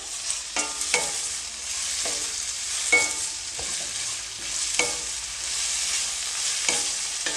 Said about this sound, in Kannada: ಟೊಮೊಟೊ ಸಾಫ್ಟ್ ಆಗೋವರೆಗೂ ಸ್ವಲ್ಪ ಇದನ್ನು ಎಣ್ಣೆಯಲ್ಲಿ ಫ್ರೈ ಮಾಡ್ಕೊಳ್ಳಿ